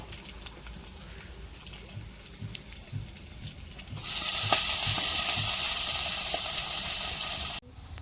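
Quiet kitchen clatter, then fenugreek greens and pigeon peas hit hot oil with a sudden loud, hissing sizzle that holds steady for several seconds before cutting off.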